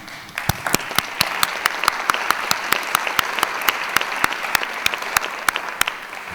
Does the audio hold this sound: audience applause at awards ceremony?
yes